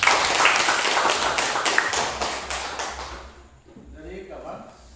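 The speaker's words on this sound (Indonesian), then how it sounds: "Ya, tepuk tangan buat Anda." Classroom applause from students, a burst of clapping that fades out after a few seconds, followed by a quieter stretch with faint voices.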